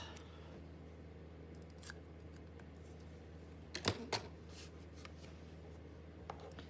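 A couple of quick snips of scissors cutting paper close by, amid soft rustling and quiet handling sounds.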